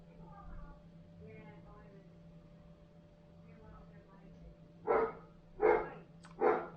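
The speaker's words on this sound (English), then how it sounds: "Next door neighbour's dog's on one again." A next door neighbour's dog barks three times in a steady rhythm, sharp and fairly loud from a short distance, following quiet murmured speech over a low steady hum.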